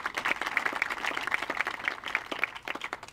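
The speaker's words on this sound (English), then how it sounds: "Let's give them a round of applause too," An audience applauds a production and panel installation crew, a dense, steady patter of many hands clapping at moderate-to-low level for about three seconds with no voices on top.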